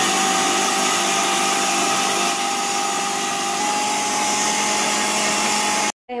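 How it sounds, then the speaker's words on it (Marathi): An electric mixer grinder chops vegetables for momo filling, a loud continuous high-speed motor whine running steadily for about six seconds before cutting off abruptly at the end. "आता मिक्सर मध्ये घालून घेतलंय, तर बघा 5-10 सेकंदामध्ये सगळं बारीक एकदम बारीक चॉप होऊन निघतं"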